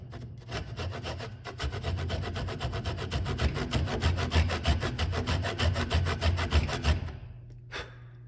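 A tenon saw cuts wood for a mortice and tenon joint in Chinese/Japanese joinery, with fast, even back-and-forth rasping strokes, close and steady for about seven seconds, then stopping, followed by one short final scrape.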